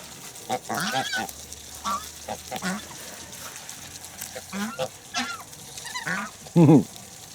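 Geese honk repeatedly nearby in scattered bursts, ending in a loud close honk, with occasional speech mixed in.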